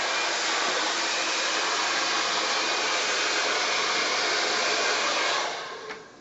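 A blow dryer roars steadily and loudly with a nozzle aimed along a round brush during hair styling, a constant broadband rush that cuts off near the end as it is set down.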